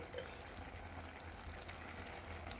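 A pot bubbles quietly and steadily at a low simmer, soft gurgling with a faint hum underneath.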